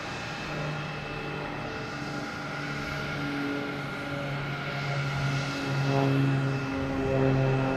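Cape Air Cessna 402 twin piston-engine plane taking off at Boston Logan, a steady moderate engine drone with a rising hum, heard from a distance without talk.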